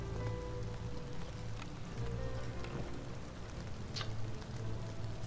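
Drizzle-season rain in the video game Against the Storm, a soft steady patter of falling drops, fairly faint and continuous, with no talk.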